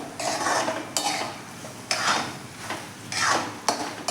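Veg pasta is stirred in a pan with a spoon, making rhythmic scraping and clinking strokes about once a second, close and moderately loud, with a faint sizzle underneath.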